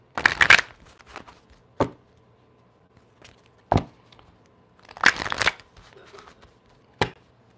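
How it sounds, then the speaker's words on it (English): Tarot cards being shuffled in quick riffling bursts, several separate flurries of crisp papery slaps with short pauses between, close and fairly loud. "let me get a quick shuffle"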